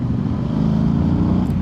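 A Voge DS800X Rally motorcycle engine pulls steadily from low revs in fourth gear at about 50 km/h. The low drone is loud and continuous, with no one talking.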